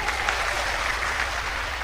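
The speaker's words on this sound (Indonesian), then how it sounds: "Tepuk tangan dong untuk ini ibu" Church audience clapping for women dressed in kebaya, a dense, even burst of applause filling the short span without talk.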